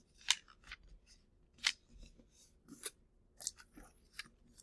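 Scissors snip through paper, cutting out dotted-line pieces to be folded and glued into a science notebook: several crisp, close cuts in an uneven rhythm, with no talking.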